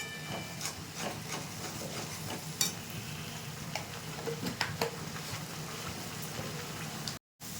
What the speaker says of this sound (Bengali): মশলাটা দিলাম, একটু কষিয়ে নেবো এটাকে